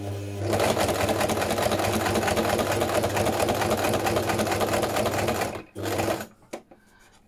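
Sewing machine stitching along the fold of a bookmark, a close, steady motor whir with rapid needle chatter running for several seconds, briefly stopping, restarting, then winding down.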